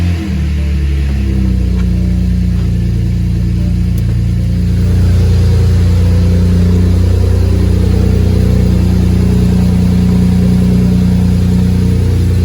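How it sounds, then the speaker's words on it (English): BMW 335i engine starting for the first time after new turbochargers were fitted, a loud steady rumbling idle with a brief rise early on, close and continuous with no talk. "All right, here goes first start. New turbos, oil pressure."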